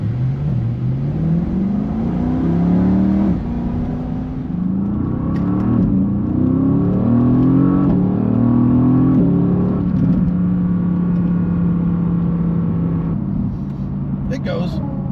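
A Mercedes-AMG GT engine pulls hard through rising revs, climbing in pitch through several gear changes with a deep rumble, heard from inside the cabin as someone talks over it.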